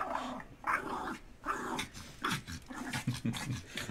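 Dogs growl and snarl in rough, gargling bursts, close and fairly quiet, rising and falling as if playfully wrestling.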